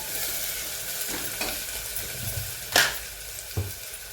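Chopped onion sizzles steadily in a pan, salted while it browns for a village-style cluster bean amti, with a few sharp scraping stirs cutting through the close, continuous frying hiss.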